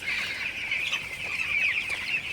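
Broiler chickens, eighteen days old, cluck and chirp continuously, a close, busy flock sound with no talking.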